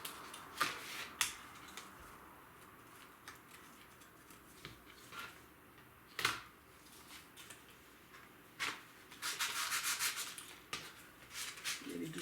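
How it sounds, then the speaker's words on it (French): Hand sanding with abrasive paper, heard as irregular dry rubbing strokes and short scraping bursts, fairly quiet, with a denser stretch of rapid strokes near the end and no voices. "je vais devoir tout sabler ça"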